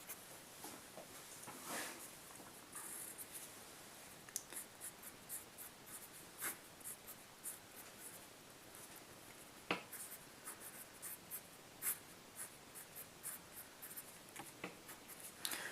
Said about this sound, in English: I'll go ahead and write this